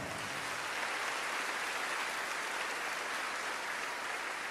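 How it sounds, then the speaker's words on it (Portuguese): Crowd applause at a church gathering for a preacher, a steady, even wash of many hands clapping, heard at a moderate distance without a break. "Dê-lhes uma forte salva de palmas"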